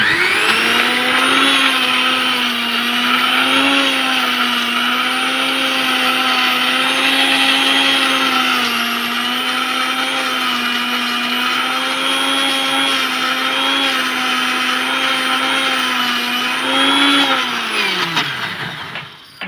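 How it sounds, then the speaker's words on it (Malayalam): A mixer grinder whirs steadily, grinding roasted coconut a little at a time for chicken curry, loud and continuous with no talk, then winds down and stops near the end. "തേങ്ങ കുറേശ്ശെ എടുത്ത് അരച്ചുകൊണ്ടിരിക്കുന്നുണ്ട് ഞാൻ"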